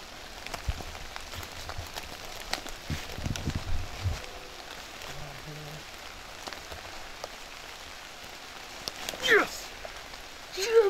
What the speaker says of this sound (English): It's raining pretty good there.